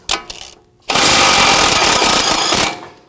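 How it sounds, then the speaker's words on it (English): A power tool with an 18mm socket spins off the outer tie rod end nut on a Volvo S60, a brief burst followed by a loud, steady buzzing whir lasting about two seconds before stopping. "Take the nut off for the outer tie rod end. We're going to use an 18mm socket."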